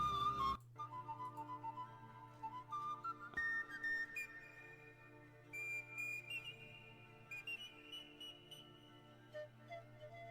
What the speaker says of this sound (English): it's gonna have the whistle song